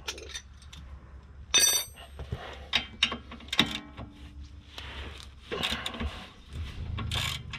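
A wrench works a nut loose on the rear sway bar of a VW MK4 during an H&R sway bar install: scattered close metallic clicks, ratcheting and clinks come in short bursts over a low, steady background.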